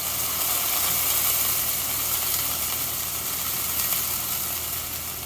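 Maitake mushroom frying in a pan, giving off a constant close sizzle and hiss as its juices cook down, with no talking.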